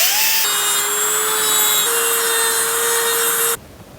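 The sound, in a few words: cutting two ears off a bike headset part with power tool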